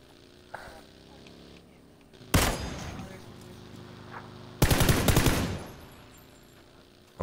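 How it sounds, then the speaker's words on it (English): Two loud bursts of rapid automatic gunfire crack out in a PUBG match, each lasting about a second, separated by a quieter stretch of game ambience, with a faint voice in the background. "there's someone that was shooting a gun"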